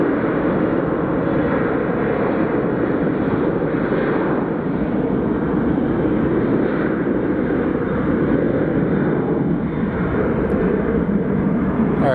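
A passenger airliner takes off from Phoenix Sky Harbor Airport bound for Nashville, its jet engines producing a steady, broad roar that holds loud and constant throughout without letting up.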